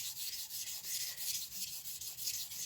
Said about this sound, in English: I choose the angle I want, and I start to grind perpendicular.